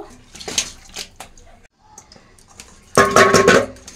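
Washed onions, tomatoes and green chillies are set to drain, giving irregular splashes and trickles of water. A louder burst of running water comes near the end, and faint kitchen clatter sits in the background.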